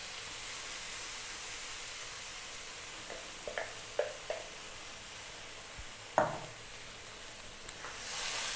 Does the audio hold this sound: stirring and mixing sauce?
yes